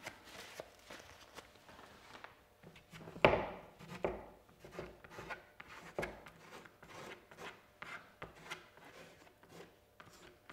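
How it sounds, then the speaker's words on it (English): A card scraping wet watercolour paint off paper, a series of soft, close rasping strokes in uneven rhythm, with one louder scrape early on. "I'm going to use this card again to have a go at scraping some"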